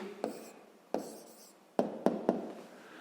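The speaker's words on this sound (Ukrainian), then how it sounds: "записуємо відповідь" Pen strokes on paper while writing down a math answer: five short, sharp scratching taps spaced irregularly over a few seconds, close and fairly quiet, with no talking.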